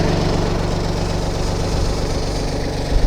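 Engine of the Weedinator weeding machine idling steadily, a continuous low mechanical drone with even vibration throughout, close and fairly loud, with no talk over it.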